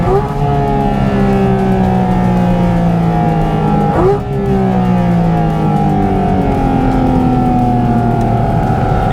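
A Porsche engine at a Porsche World Roadshow session in Sepang revs steadily through its range, pitch climbing in long sweeping glides with a brief dip and surge midway, loud and close throughout with no talking.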